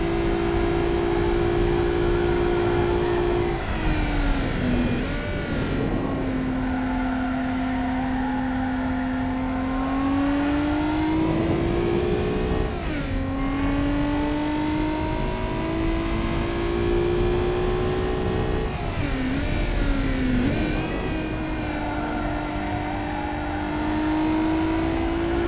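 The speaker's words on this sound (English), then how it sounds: "I have gotten a car to complete this entire circuit within 2 minutes." A car laps a test circuit in the car-design game Automation, its engine droning and rising in pitch through the gears, dipping at each shift and braking point, loud and continuous for the whole run with no talk.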